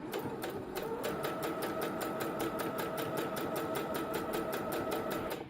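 A sewing machine back stitching a fabric scrunchie runs in a steady, fast mechanical rhythm of even needle ticks over a humming motor for several seconds, quiet and alone, stopping at the very end.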